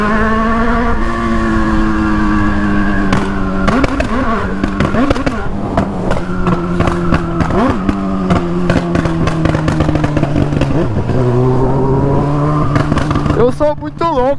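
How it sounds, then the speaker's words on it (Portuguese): A Honda Hornet motorcycle engine drones steadily while riding at night, its pitch shifting with gear changes and throttle, loud and close, with a voice talking over it. "saquei um hornetão pra fazer um videozão de baile pesado pra nós"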